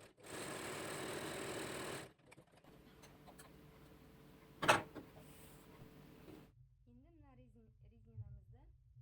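A sewing machine stitching a seam about 1.5 cm wide along folded fabric, running in a steady loud whir for a couple of seconds before stopping. A person then speaks.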